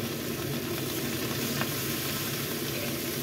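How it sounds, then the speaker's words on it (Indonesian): Yau mak choi greens with garlic stir-fried in a pan, a quiet continuous sizzle with soft stirring scrapes throughout, no talking. "Lanjut kita tumis, kita aduk."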